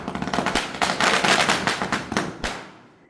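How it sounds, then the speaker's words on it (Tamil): A Diwali firecracker set off close by bursts into a rapid crackling string of sharp pops lasting about two and a half seconds, then cuts off abruptly. "ஒரு பட்டாசு அப்படியே ஓரமாக நின்று வெடித்தேன்"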